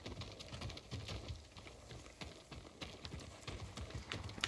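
Horse hooves clip-clop in a video game, a quiet, steady rhythmic patter of hoofbeats at moderate distance with little else present.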